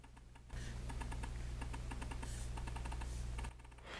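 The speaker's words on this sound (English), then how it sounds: "Now this is a haptic keyboard, haptic trackpad, right?" Rapid light clicks on the haptic trackpad of an HP EliteBook Ultra G1i 14-inch laptop, a quick even run of soft taps over a low hum, close and without talk.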